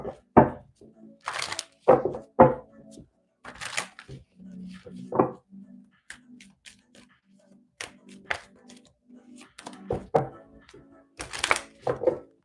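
A deck of tarot cards is shuffled in short, crisp riffling bursts and taps, close to the microphone, separated by quiet pauses.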